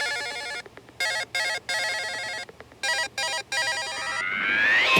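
A mobile phone rings loudly and close by, a repeating electronic ringtone in short bursts that stops and starts, then rising tones at the end, with no talk.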